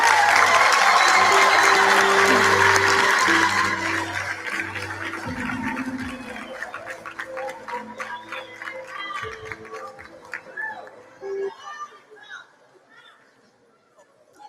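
Dense applause at a 2023 Matric examination results announcement rings out loudly for several seconds, then thins into scattered claps and chatter before fading away.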